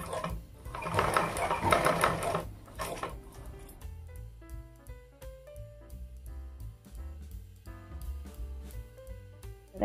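A sewing machine stitching a Punjabi dress runs in a fast, close mechanical whirr for about three seconds, then slows into a series of separate clicking needle strokes and taps.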